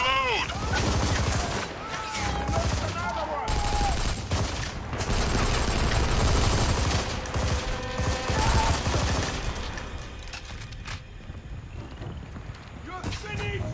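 Sustained gunfire in Army of Two: The 40th Day, a third-person shooter. Dense bursts of automatic fire and shots run almost continuously and loud, with game voices and shouting mixed in and a brief lull toward the end.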